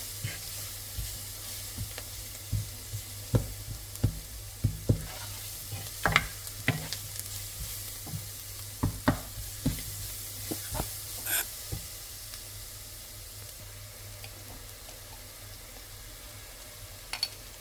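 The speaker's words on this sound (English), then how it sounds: "Once the onions and the spices have cooked in, I'm going to add 2 tablespoons of tomato paste." Onions and spices fry for lamb shanks, sizzling and hissing steadily in the pan while a utensil stirs and scrapes in frequent close knocks, with no talk.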